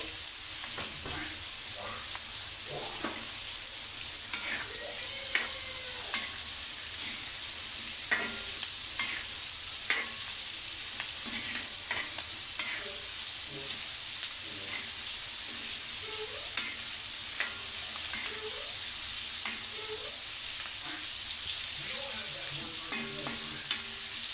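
Liver frying in a pan as salt goes in, a steady loud sizzle running throughout with scattered stirring scrapes and clinks, no voices.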